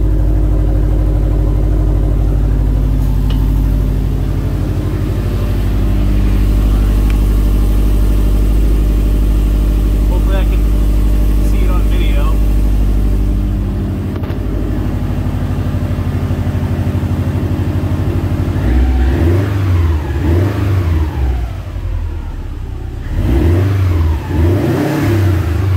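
A Subaru WRX STi hatch fitted with an OBX catback exhaust idles with a deep steady burble, then is revved several times in quick blips near the end, close and loud.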